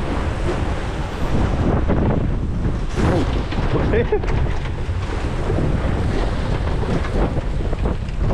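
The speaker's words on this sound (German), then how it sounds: "Eine Welle." Water crashing over a raft on the Lost World Rafting ride at Erse-Park, a loud, continuous rushing and splashing roar close to the microphone with wind buffeting throughout.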